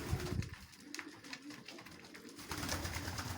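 Pigeons coo steadily in a winter breeding loft, low throaty purring calls overlapping in a continuous chorus, fairly close and moderately loud, with no speech.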